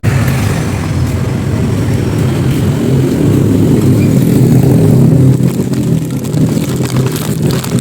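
A car engine drones loud and close as it threads through traffic with tricycles nearby, a steady rumble with slight swells in revving and no one speaking.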